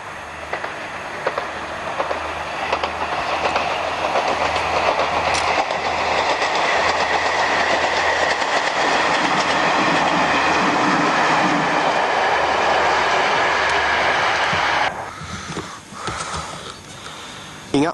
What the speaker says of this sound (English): In the distance we can hear the 15:54 from Southminster